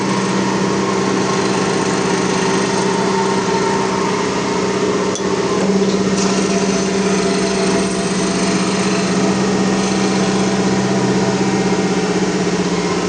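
An ELB surface grinder works across machine tables, giving off a loud, sustained mechanical whine and hum with a steady grinding hiss and a slight shift partway through, with no voices.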